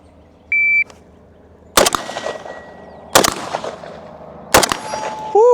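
A shot timer beeps once, then an FN SCAR 16S rifle fires three loud, sharp shots spaced about a second and a half apart, each with a ringing tail, on an outdoor shooting drill.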